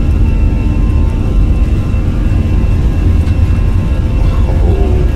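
An Airbus A320 taking off at TOGA thrust in a flight simulator, heard as a loud, steady engine roar with a rumbling low end and a constant whir that runs unbroken throughout.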